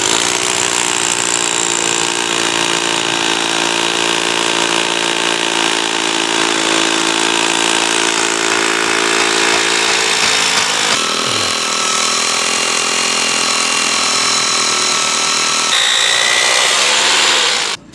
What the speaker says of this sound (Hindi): यहाँ पे ये ड्रिल मशीन को हम ऑन करने जा रहे हैं